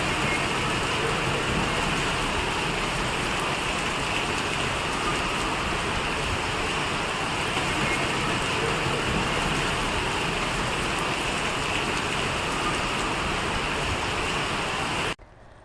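Steady heavy rain pours down in a dense, even hiss that holds without a break for about fifteen seconds before cutting off abruptly.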